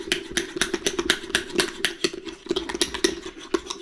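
A creamy dressing of ranch and barbecue sauce is whisked briskly in a bowl, producing rapid, even clicking and scraping strokes up close with no talking.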